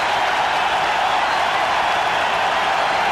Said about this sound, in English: Listen to that crowd now.